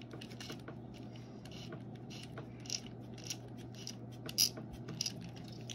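Drag on a Zebco 888 spincast fishing reel being loosened, giving quiet rapid clicking and ratcheting at close range with a few sharper metallic ticks, no talking.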